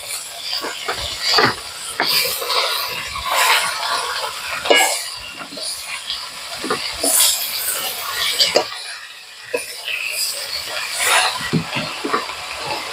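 Washed, chopped red spinach is stirred in a hot pan, giving a steady hiss and sizzle broken by repeated scraping strokes of the spatula throughout, fairly close and prominent.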